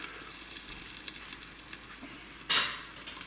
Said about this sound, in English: So I'm letting the film run so you see how long it takes